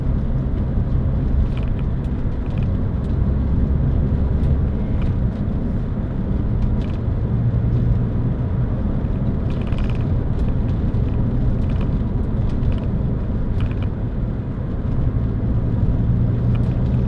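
A 2006 Toyota MR2 1.8 VVT-i roadster on the move, its engine and road noise forming a steady, loud low rumble and whir from inside the cabin, with no talk.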